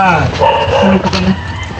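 A dog barks and yips close by in short bursts near a house, mixed with people talking and greeting each other.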